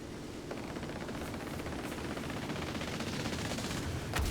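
In a War Thunder ground battle, a teammate's aircraft strafes an anti-aircraft gun: dense, continuous rattling automatic gunfire heard at a distance, a steady wash of rapid shots with a slightly heavier burst at the very end.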